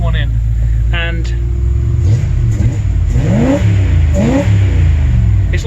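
A pickup truck engine with a swapped aftermarket throttle body injection unit idles, then is revved twice in quick rising bursts that fall back to a rough, steady idle, loud and close.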